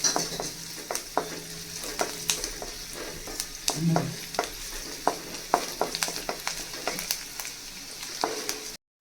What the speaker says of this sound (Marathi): लसूण छान असा भाजून घेणार आहोत। याला थोडं मोठ्या गॅसवरती भाजायचं सो थोडा स्मोकी फ्लेवर येतो।